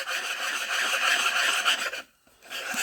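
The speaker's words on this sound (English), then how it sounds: "I'll take our sandpaper here and" Sandpaper rasps steadily across the flat surface of a Case D engine case, a close, loud scratchy rubbing that stops briefly before starting again.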